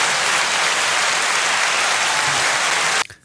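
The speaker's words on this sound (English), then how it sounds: "Give her a round of applause for a wonderful joke" A studio audience breaks into loud, dense applause after grandma's joke on a podcast, steady for about three seconds before it cuts off abruptly.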